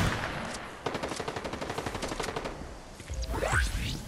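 Rapid automatic gunfire rattles in the Fortnite video game, a quick string of evenly spaced shots over about two seconds, followed by a rising whooshing sweep.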